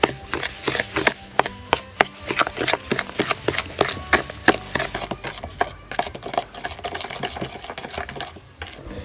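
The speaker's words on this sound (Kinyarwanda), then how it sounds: "Tuvange ibi birungo byacu." Cake ingredients are mixed by hand in a bowl, with a utensil clicking and scraping against the sides in a fast, steady rhythm, close and fairly even throughout.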